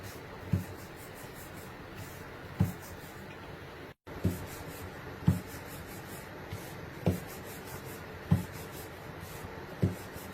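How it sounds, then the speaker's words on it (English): Soft rhythmic rubbing strokes come from a rolling pin pressing flour-dusted all-purpose flour dough into round tortillas on a board, about six quiet regular passes, close and faint with no talk. "Sprinkle a little bit of the all-purpose flour and roll it nice into circular"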